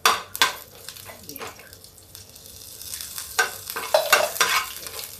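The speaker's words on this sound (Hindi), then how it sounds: "और ये जाएगा एक तेज पत्ता। ये देखिए ये। अब इसको हम पका लेते हैं।" A bay leaf frying in hot oil in a pot for a dal and vegetable dish, close sizzling with sharp spoon-scraping stirs and clinks against the pot, crackling more busily toward the end.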